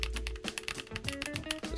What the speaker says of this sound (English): this keyboard sounds pretty good stock